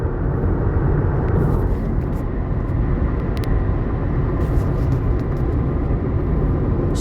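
A car driving along, heard from inside as a steady, loud broadband road and engine rumble that stays even throughout, with faint high clicks and no talk.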